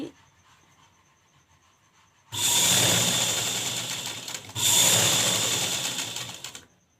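Domestic sewing machine stitching a princess-cut blouse, running in two continuous bursts of steady whirring after a quiet start, with a short pause between runs.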